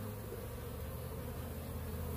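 Honeybees buzz steadily around a cage outdoors in a faint, continuous drone with no voices.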